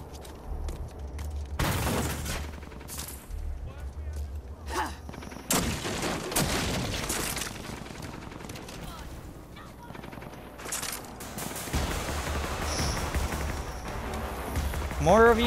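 Bursts of gunfire and shotgun blasts in the Rage 2 video game, irregular and loud, scattered among running footsteps and mechanical clatter, with a voice talking at times.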